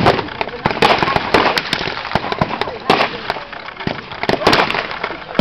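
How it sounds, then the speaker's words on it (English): Simulated shell explosions burst during a mock tank battle at Tankfest 2011, a continuous loud barrage of sharp cracks and bangs over a dense rumbling background, with a voice speaking faintly beneath. "there seems to be some shells landing now amongst the German positions"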